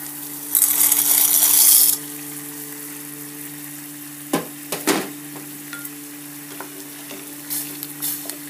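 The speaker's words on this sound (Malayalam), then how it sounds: "വെള്ളം ഇവിടെ തിളച്ചിട്ടുണ്ട്. ഇനി ഇതിലേക്ക് നമ്മൾ എടുത്തു വെച്ചിരിക്കുന്ന പാസ്ത ഇട്ട് വേവിക്കുക." Macaroni pasta is dropped into a pot of boiling salted water, making a short, loud rushing splash and hiss. Afterwards there is quiet bubbling with a few soft clinks and taps of a spoon.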